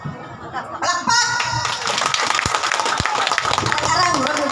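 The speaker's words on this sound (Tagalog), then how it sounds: "Palakpak!" Audience clapping at a political rally in Mindanao, a burst of applause rising after a second and continuing steadily, with laughter and voices mixed into the crowd noise.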